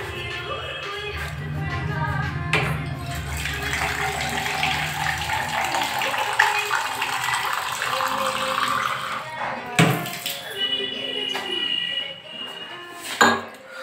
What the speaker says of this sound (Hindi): सबसे पहले हम लोग इसमें पानी डाल देते हैं